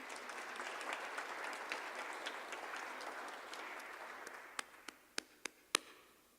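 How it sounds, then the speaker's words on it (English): An audience claps hands at an awards ceremony, a steady quiet patter of many hands that thins out toward the end into a few sharp, isolated claps. "Let us clap hands for her."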